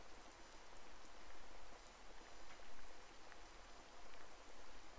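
Steady rain in the Sakura Spirit visual novel game, a continuous even hiss of drops falling on a surface, with no voices.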